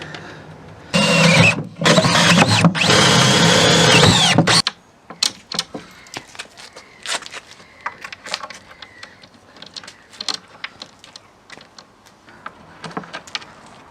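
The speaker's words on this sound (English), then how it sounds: "So I'll get them pre-drilled out and then fix them in." A power drill pre-drills holes for drawer fixings in a VW T5, a loud continuous whirring burst of about four seconds followed by scattered clicks, knocks and handling noises.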